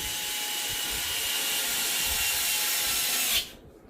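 Screws being driven into an Arrma Kraton 4S RC car chassis make a steady, close grinding and rubbing sound that runs continuously for several seconds, then cuts off abruptly near the end.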